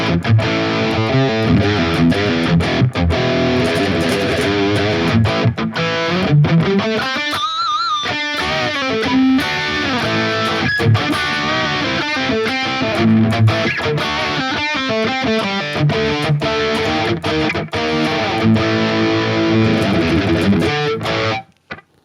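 Electric guitar played through a Valeton GP-200 multi-effects unit on a high-gain Mark II C++ amp preset with EQ and distortion pedal, heavily distorted chugging riffs and sustained chords, loud and continuous for about twenty seconds with no talking.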